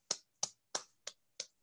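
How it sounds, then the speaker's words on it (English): Five sharp, evenly spaced claps from a single participant in an online stress-management webinar, close and quiet, each a crisp isolated smack with short decay and silence between. "Okay, everybody clap"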